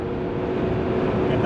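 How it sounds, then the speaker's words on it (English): A 1990 Mercedes W126 300SE cruising at 60 mph and about 2,900 RPM, its engine and cooling fan droning in a steady, loud, continuous hum with broadband road and wind noise. "you can hear the engine"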